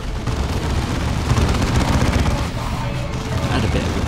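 Grenade blasts and gunfire from the Dawn of War 2 campaign game form a dense, continuous barrage of rattling shots and booms, steady and loud for the whole stretch with no talk over it.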